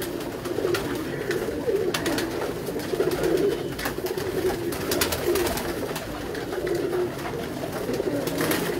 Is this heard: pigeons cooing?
yes